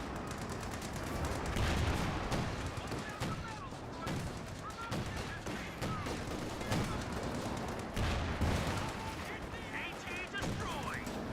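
Coaxial machine gun fire in Company of Heroes 2, dense rapid bursts of gunfire over a continuous battle din, with a voice talking over it and scattered impacts throughout.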